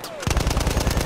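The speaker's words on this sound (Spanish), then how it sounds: "Abajo de nosotros, que te están tirando, Francisco." Rapid automatic gunfire in the shooter Battlefield 1, a steady run of about a dozen sharp evenly spaced shots, close and loud, cut in after a brief quiet start.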